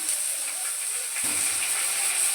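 Water splashed into ginger-garlic paste, salt and green chillies frying in a pan for egg curry gives a steady, fairly loud hiss, with a denser low sizzle swelling up midway through and no voices.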